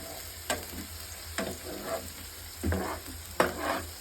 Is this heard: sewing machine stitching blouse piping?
no